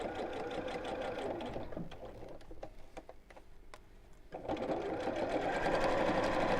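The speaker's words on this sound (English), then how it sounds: "I'm just going to sew quite close to the edge" A sewing machine runs steadily on a 2.8 stitch length, sewing close to the edge of a sequin purse. It pauses briefly midway with a few soft clicks, then resumes louder and continuous.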